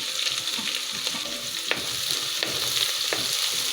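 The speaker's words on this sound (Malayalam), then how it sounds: "ഉള്ളി ഇങ്ങനെ വഴറ്റുന്നത്" Onion, green chilli and curry leaves sauté in a pan for papaya thoran, giving a steady soft sizzle with a few sharp clicks of stirring, close and alone without talk.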